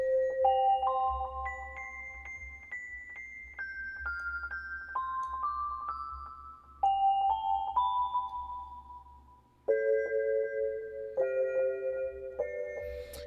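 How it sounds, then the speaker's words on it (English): Dreamy music box bells from a virtual instrument are played high in the register, a soft, tinkling melody of sustained chiming notes at a gentle volume with a brief pause near the end and no speech. "So, ooh, dreamy music box bells."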